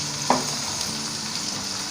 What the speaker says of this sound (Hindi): सिर्फ 3 से 4 मिनट प्याज़ों को पका के उसके बाद